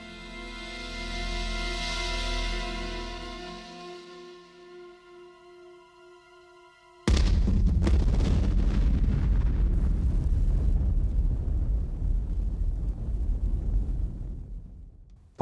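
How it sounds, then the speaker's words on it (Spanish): Studio-made final explosion effect for the film Días Contados: a sustained tonal, droning buildup that fades, then a sudden massive blast with a long, loud, rumbling roar that slowly dies away. "la explosión final de Días Contados está hecho en el estudio de"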